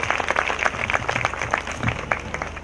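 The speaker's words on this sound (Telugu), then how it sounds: "అందరూ చప్పట్లు కొడుతూ గట్టిగా వందనాలు తెలియజేసుకుందాం" Audience applause at a church feast celebration at Manginapudi Beach near Vijayawada, steady dense clapping from a crowd throughout, close and loud, with faint voices mixed in.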